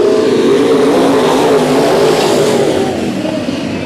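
Race cars battling three-wide for the lead at Bakersfield Speedway roar past in a loud, throbbing engine drone that swells and then gradually eases as the pack moves away.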